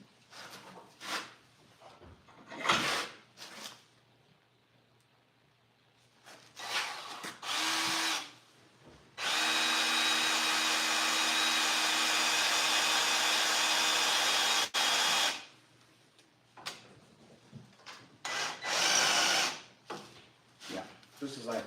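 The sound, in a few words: power drill drilling holes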